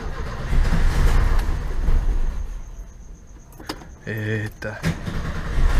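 A 1980 VW Gol left abandoned in a garage for ten years has its engine cranked and catching, with a rough mechanical rattle near the end. Someone speaks over the running car and jangling noise.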